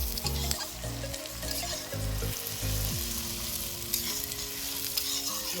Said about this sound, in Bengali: রসুন দেওয়া হলো রসুন দেওয়া হয়ে গেছে পাকানো চলছে